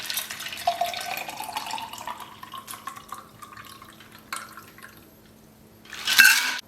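Prosecco pours into a champagne flute holding cranberries, with a soft, close liquid stream and fizz that rises in pitch as the glass fills, then a brief louder splash near the end.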